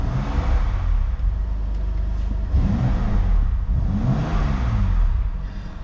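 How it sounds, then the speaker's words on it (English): A BMW M2 Competition engine idles cold with a deep rumble, then revs up twice in quick swells before settling back, loud and close. "So let's give it a rev."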